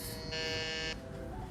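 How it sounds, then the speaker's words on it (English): A trivia championship game show buzzer gives one steady electronic buzz of just under a second, loud and alone in the room. "We've got a buzzer."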